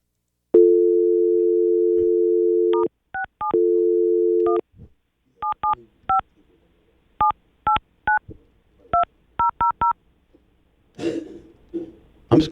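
Telephone tones while calling the Grand Sierra Resort and Casino in Reno, Nevada: a steady dial tone cut into two long stretches, then a quick run of dual-pitch keypad beeps, ending in a brief cough or throat clearing.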